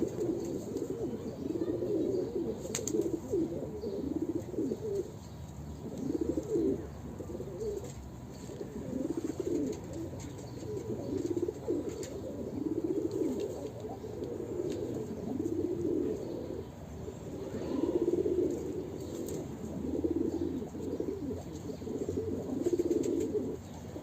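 Pigeons of a crested breed coo in a breeding coop, a continuous overlapping chorus of soft, throaty rolling coos that rises and falls throughout, heard fairly close with no speech.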